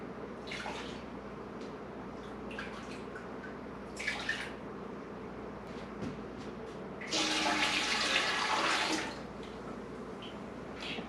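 Hot beet water, just taken off the heat, is poured into a measuring cup for pickled beets, giving a close, steady rushing splash that swells loud for a couple of seconds amid quieter trickles and kitchen clatter.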